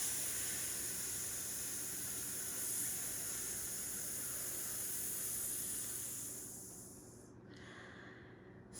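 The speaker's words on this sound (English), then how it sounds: "I want you to hiss, only this time focus on maintaining a consistent speed of air." Steady, breathy hissing exhale from a voice teacher, held at an even airflow for about seven seconds before tapering off, close and alone with no talking.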